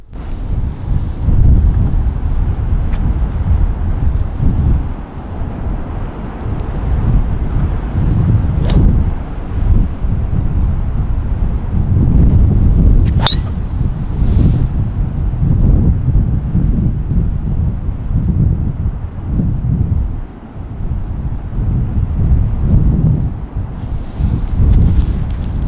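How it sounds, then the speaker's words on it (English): Strong wind buffets the microphone on a seaside links golf course at Royal Portrush, a loud, steady roar with gusts rising and falling throughout and no talk. "I'm right into the teeth of the wind."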